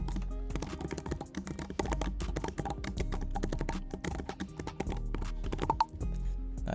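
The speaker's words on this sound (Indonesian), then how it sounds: "kita baru ketik passwordnya." Fingers type a password on a computer keyboard, producing dense, irregular clicking keystrokes close by that continue steadily without talk.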